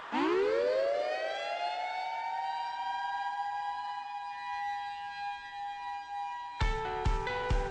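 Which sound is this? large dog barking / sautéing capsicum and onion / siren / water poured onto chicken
siren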